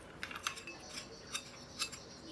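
A spoon stirs sugar into about a quarter cup of water for blooming yeast, making a few light, quick clinks against the container spread over a couple of seconds. The clinks are faint over soft background hiss, with no talking.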